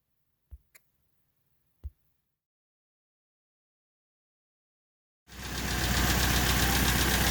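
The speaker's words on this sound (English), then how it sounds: "the motor is running, but it's throwing a check engine light" Honda D16Y8 engine freshly swapped in at home: after a few faint clicks and near silence, it catches and runs with a loud, steady, close-up drone that continues to the end.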